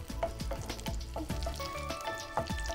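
Dried red chillies of the piriyan variety stirred while roasting in a pan, giving a steady dry sizzle broken by repeated scraping strokes of the spoon, close and fairly loud, with no talking.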